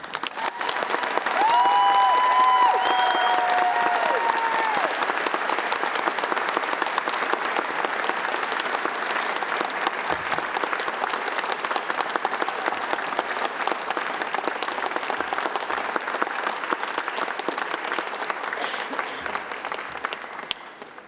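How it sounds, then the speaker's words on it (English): A large audience at a Unitec graduation ceremony applauds the new graduates, a loud, continuous burst of many hands clapping that carries on evenly for around twenty seconds. "a round of applause for our new graduates"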